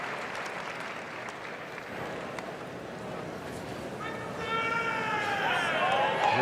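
A crowd applauding and cheering in the arena during Best in Show judging at the Westminster Dog Show, steady clapping that swells louder toward the end, with a voice talking over it.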